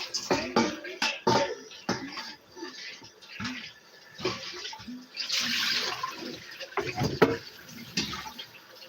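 Tap water runs in uneven bursts while bowls are rinsed under it, with clattering and splashing close by, stopping and starting throughout.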